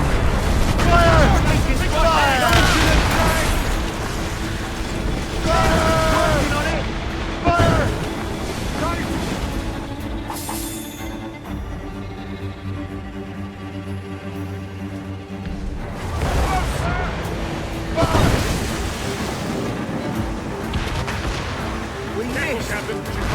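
Naval cannon volleys in Assassin's Creed Rogue boom repeatedly amid wind and sea noise around a sailing ship, with shouted voices over the broadside bursts.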